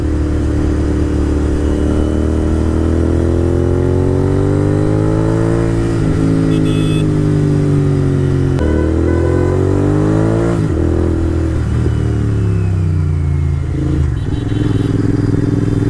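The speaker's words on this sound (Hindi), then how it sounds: "बाकी आवाज़ कैसी लगती है आपको GT की?" A GT motorcycle engine drones loud and close throughout a short ride, its low throb rising and falling as the throttle opens and eases, with a couple of brief clattering shifts along the way.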